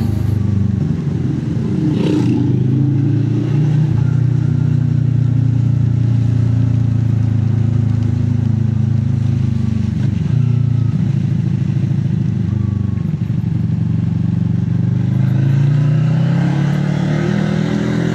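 An FKM Falcon 400 motorcycle engine labors continuously at a steady, rough pitch climbing a steep hill, with occasional clattering and brief surges as it pushes on.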